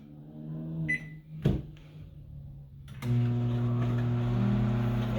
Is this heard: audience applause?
no